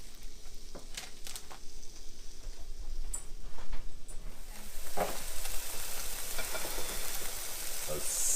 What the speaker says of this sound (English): Sizzling burgers.